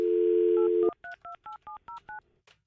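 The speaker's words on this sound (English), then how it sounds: "I'm calling the Princess Trimline phone, which is tucked underneath my side of the bed." A steady dial tone cuts off, then seven quick touch-tone beeps sound in an even rhythm as a number is dialed, ending with a faint click.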